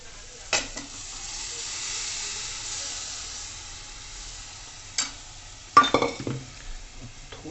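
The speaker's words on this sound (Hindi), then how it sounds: "बस अब इसमें मिलाते हैं दाल।" Lentils for dal makhani go into a hot pan and are stirred, giving a soft steady sizzle and hiss broken by a few sharp clinks and scrapes of the spoon against the pan.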